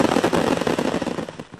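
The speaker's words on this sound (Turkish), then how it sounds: "Ancak havai fişeklerin hepsi aynı anda patlayınca korku dolu anlar yaşandı." About 2000 fireworks set off at once during disposal make a loud, dense barrage of overlapping bangs and crackles that roars on without a break.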